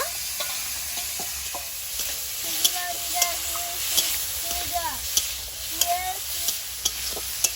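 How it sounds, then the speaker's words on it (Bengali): Prawns fry in hot oil in a pan for a Bengali okra and prawn dish. A steady sizzle runs under repeated clinks and scrapes of a spatula stirring, with some quiet speech in the background. "ওই তেলের চিংড়ি মাছটা ভেজে নেব"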